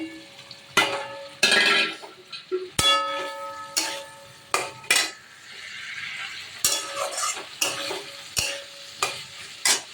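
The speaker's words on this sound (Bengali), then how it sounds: "এবার আমি এখানে একটু আলুগুলো দিয়ে দেবো" Potatoes tipped into a pan of hot oil and frying mustard-based spice paste, with clattering stirring and clinking utensil strikes over a steady sizzle, close by.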